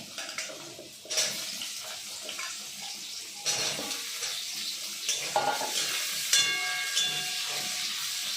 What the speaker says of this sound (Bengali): আলুগুলো একটু ভেজে নেবো লাল লাল করে।